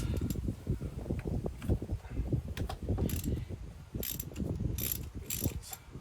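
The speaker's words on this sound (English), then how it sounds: "access the bolt on the top with the ratchet" A ratchet turns a bolt while fitting a thermostat on a Jeep JK, with rapid close metallic clicking of the pawl in repeated bursts between strokes.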